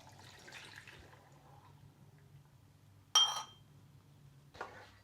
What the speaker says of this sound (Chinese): 倒入破壁机